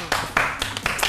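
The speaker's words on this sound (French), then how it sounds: "Maintenant, applaudissez" A handful of sharp, separate hand claps ring out in a television talk-show studio, fairly close and uneven in rhythm rather than a full round of applause.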